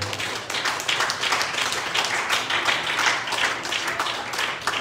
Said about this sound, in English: Can you clap your hands to the Lord?